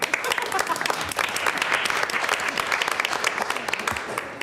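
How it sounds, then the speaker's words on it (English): Applause at a city council meeting in Asheville fills the room steadily, many hands clapping at a moderate distance throughout, with a faint voice briefly audible underneath. "Maggie got so excited, she already started clapping."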